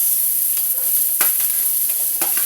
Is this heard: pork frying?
yes